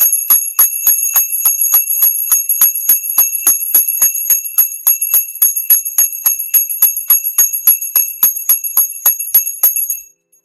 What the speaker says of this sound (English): Are you all ready for the bell?